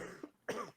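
A single person coughs close to the mic in a couple of harsh bursts, a short one followed by a louder, longer hack, with nobody talking.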